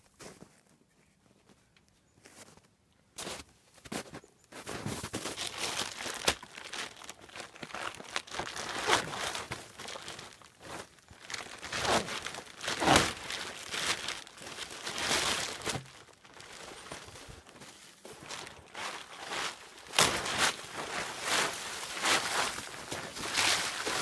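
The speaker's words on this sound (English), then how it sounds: "let's see if we can unwrap this." Plastic and cardboard packaging of a toy being torn open and unwrapped, with close crinkling, crumpling and ripping in irregular bursts that grow busier after the first few quiet seconds, with no talking.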